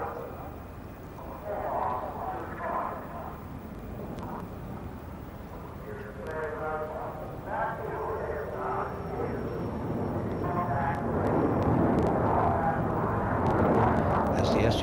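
A Sukhoi Su-35 fighter jet flies the Cobra maneuver at an air display, its engine roar rising and swelling in the distance beneath a narrator who talks over it throughout.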